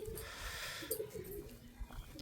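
Breeding pigeons kept in pairs coo softly in their loft, low murmuring calls at moderate distance under steady background hiss, with a brief rustle partway through.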